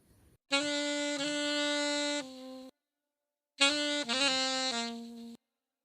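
A saxophone plays two short melodic phrases with quick ornamental grace notes leading into held tones, separated by a brief silence.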